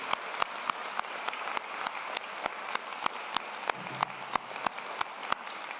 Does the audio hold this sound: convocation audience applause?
yes